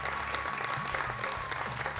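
A crowd at a preliminary-round stage event gives brief, dense applause that stays steady for a couple of seconds, with a low hum and murmur underneath.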